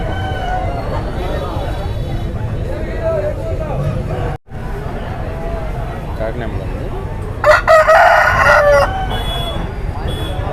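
A rooster crows loudly near the end over steady market chatter, with other country chickens around at a Sunday chicken market in Ongole.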